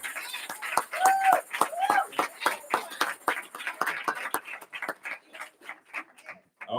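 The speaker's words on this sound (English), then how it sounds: "let's get a most round of applause" Applause from a live audience for the GOCC choir at a New Orleans event: a dense run of sharp claps, loud at first and thinning toward the end, with voices mixed in.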